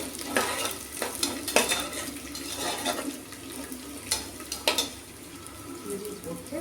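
Garlic and ginger fry in a pan with a wet, crackling sizzle, punctuated by several sharp scraping stir strokes, heard up close and fairly quiet with no talking.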